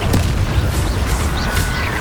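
Incendio fire spell cast in Hogwarts Legacy, a short close whooshing burst with a low rumbling boom and crackle, loud and dense, heard alone.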